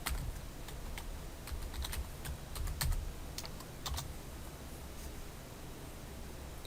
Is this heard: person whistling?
no